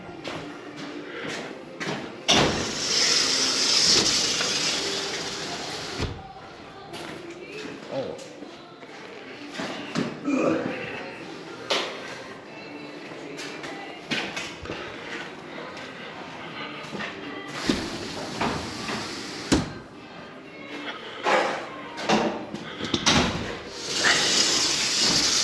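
Sliding screen doors on a newly enclosed lanai rolling open and shut in several bursts of rumbling and clacking, separated by quieter gaps with some speech nearby.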